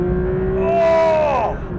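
A 2024 Porsche 911 S/T engine climbs through a loud, rising rev while driving, then drops off sharply as the throttle lifts, heard close from inside the car.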